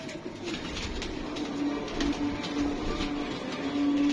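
Golden pigeons coo close at hand, repeating soft, low, throaty calls in a steady rhythm over a quiet background hum.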